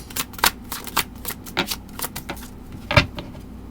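A deck of tarot cards is handled and drawn up close, with a string of soft papery slaps and riffling flicks at an uneven rhythm, and no voices over them.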